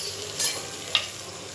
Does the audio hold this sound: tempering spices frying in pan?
yes